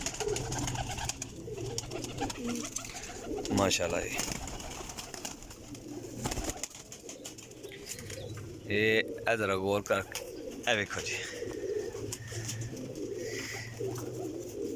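Prized racing pigeons coo softly now and then in the background while someone talks over them, with low murmuring calls and occasional handling noises.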